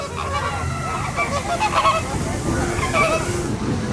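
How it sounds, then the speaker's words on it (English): Birds at a construction site honk in a noisy, overlapping chorus, loud and close, with repeated calls against constant background rumble. "Hello, construction ducks."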